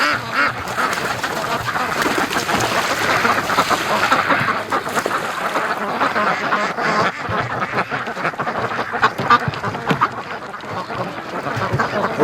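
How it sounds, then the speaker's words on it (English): A flock of Muscovy ducks by a lake calls steadily, with continuous low quacks and hissy chatter over an outdoor background, dense and unbroken throughout. "Muscovies are always the last to leave."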